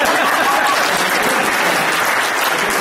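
Audience at a candidate forum claps steadily in a dense, continuous round of applause filling the whole stretch, fairly loud and close, with no speech over it.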